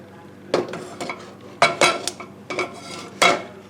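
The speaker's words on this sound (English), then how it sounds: "Let's go ahead and cut the onion up." Knife cutting an organic onion on a board for a milkweed and burdock stir-fry, a quick series of close chopping knocks and clinks in uneven bursts, faint and without talking.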